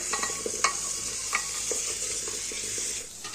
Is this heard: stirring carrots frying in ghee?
yes